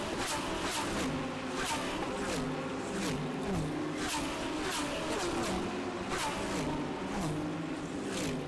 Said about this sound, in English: lovely sounds from the GT3 and GT4 cars down into turn number 1.